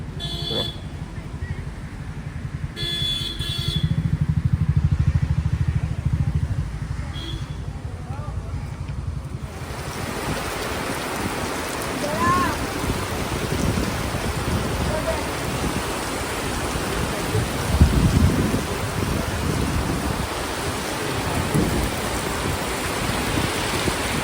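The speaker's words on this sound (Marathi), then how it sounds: "पाऊस बघा त्या बाजूला तर खूपच पडतोय" Heavy Mumbai rain roars steadily after a quieter opening, a dense broadband hiss with a faint low rumble; a voice speaks briefly near the start.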